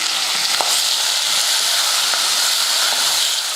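Tomatoes, onions, mint and green chillies sauté with salt in a pot, giving a loud, continuous close-up sizzle and hiss with faint stirring scrapes.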